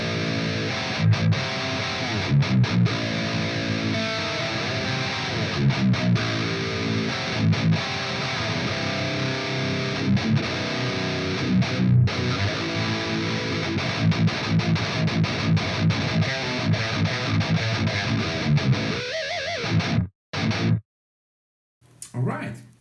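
A heavy rhythm electric guitar tone through the STL Tonality Will Putney plugin, amp 2 and cabinet 2 with some EQ, playing loud, dense distorted chugging riffs with brief stops before cutting out near the end.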